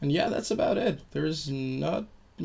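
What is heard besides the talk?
No distinct noise like a dog, phone or traffic.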